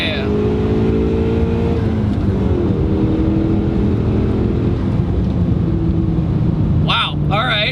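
A Mitsubishi Eclipse GSX with a small turbo accelerates, its engine droning loudly and rising in pitch from inside the cabin, with a person talking over it near the end.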